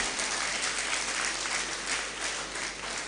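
Steady, dense audience applause fills a hall at a Rotary members' induction ceremony, loud and continuous throughout without pause.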